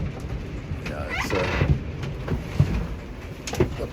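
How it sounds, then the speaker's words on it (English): A boat rubs against the rub rails on a dock during a windy winter storm, giving low creaks and groaning squeaks that come in irregular bursts over a steady wind background. "That's sounds of the boat rubbing against the rub rails on the dock."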